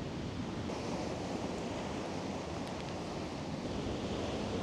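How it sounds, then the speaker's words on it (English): Pounding ocean waves crash on rocks in a steady, loud roar of surf and spray, with a little wind and no voices. "Look at those pounding waves."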